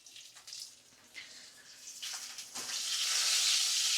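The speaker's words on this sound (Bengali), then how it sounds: "মাছের মাথা ভালো করে ভেজে নিই" A katla fish head fries in a pan over medium flame, a soft crackling sizzle that starts faint and swells into a steady, louder hiss toward the end.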